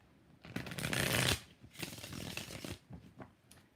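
A deck of tarot cards is shuffled at close range in two quick riffling bursts, followed by softer tapping and settling of the cards.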